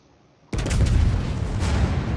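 Battleship Odin firing a main-gun salvo in World of Warships, a sudden loud booming blast after a near-silent moment, followed by a rolling, rumbling tail.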